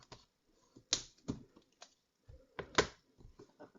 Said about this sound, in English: we're going to add a piece of tear and tape right on the edge